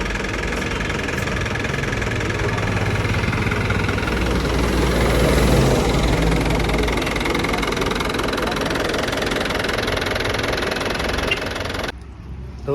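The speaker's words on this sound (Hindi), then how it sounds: "गाड़ी की जो इंजन की आवाज़ है वो थोड़ी हमने स्मूथ करनी है" A Jeep fitted with an SC Project exhaust idles loudly and steadily, its deep, slightly rough rumble continuing without a break and then shifting abruptly just before the end.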